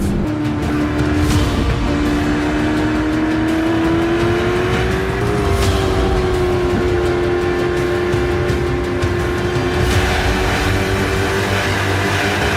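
A Corvette 01X race car accelerating around a track, its engine note a loud, steady drone that climbs in pitch and holds high for the whole stretch with no one talking.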